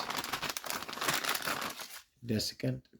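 Close, continuous crinkling of a plastic bag holding a Hobao Hyper .21 nitro engine being handled, followed by a person speaking briefly at the end.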